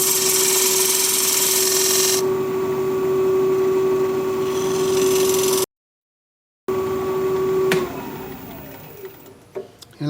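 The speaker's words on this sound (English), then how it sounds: "The idea is just to push it into the left, push it in sideways, to create the dovetail recess." A wood lathe spins as a tool cuts a dovetail recess into a live edge trivet, a steady high whine that cuts out briefly, returns, then winds down with a few clicks at the end.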